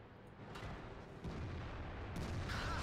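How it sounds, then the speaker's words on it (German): IS heavy tank cannon firing in World of Tanks, a faint distant boom over steady battlefield rumble, with further dull shots rolling in the background. "Aber jetzt hat die IS geschossen."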